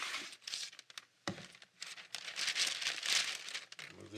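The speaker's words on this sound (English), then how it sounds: "We're going to get our wax paper in here." Wax paper being handled and crinkled while setting up a DIY book safe project, with repeated loud rustling and crackling bursts, close by and continuous with brief pauses.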